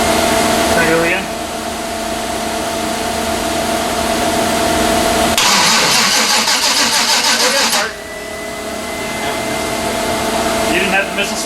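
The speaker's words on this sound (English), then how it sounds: "Crank it over again." A turbo 5.3 LS in a 92 Silverado five-speed truck cranks over repeatedly without starting, a loud rapid starter churn lasting a few seconds amid a steady background hum, with voices nearby.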